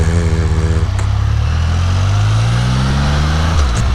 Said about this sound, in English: Traffic, traffic, traffic.